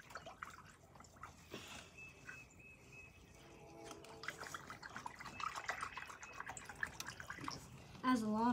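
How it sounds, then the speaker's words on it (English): Water sloshing and trickling inside the tub of a Dollar electric washing machine on a quick wash cycle with extra rinse, with a steady running wash sound and a voice speaking over it. "Has a lot of water inside this tub."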